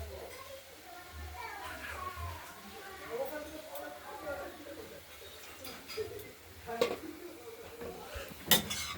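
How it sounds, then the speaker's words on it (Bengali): Beto greens are stirred in a pan with clinks and scrapes of a utensil against metal, soft sizzling underneath, while someone talks and children's voices sound faintly in the background. "শাকটা নাড়াচাড়া করছি"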